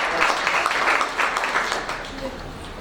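Congregation clapping and acclaiming during a church sermon, a dense, continuous wash of many hands beating together with rhythmic surges, fairly loud throughout.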